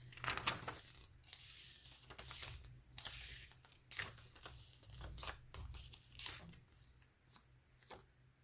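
Pink and green patterned paper crinkles and rustles as pages of a handmade softcover journal are flipped, a steady run of close, soft crackles and page turns with no talking.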